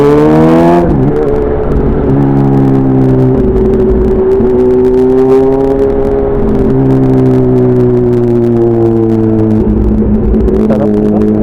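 A Kawasaki ZH2 motorcycle engine starts roaring loud and close, revving up then holding a strong sustained drone as it accelerates, pitch dipping and rising again near the end.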